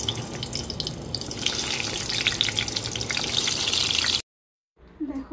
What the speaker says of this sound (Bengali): চলো পটলটা ভেজে নেব বন্ধুরা।